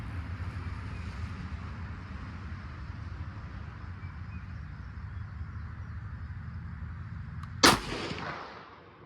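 A single sharp rifle shot from a 6mm ARC firing an 85-grain Speer bullet at the range, loud and close with a quick fading tail, coming after several seconds of steady outdoor background hum.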